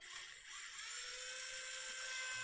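A Tamiya Electric Handy Drill spins a drill bit with a faint, steady high-pitched whine that holds constant throughout, with no talking.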